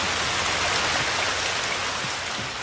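Steady rain pours in The Last of Us: Left Behind, a dense, even hiss of drops on surfaces that stays constant and close with no speech over it.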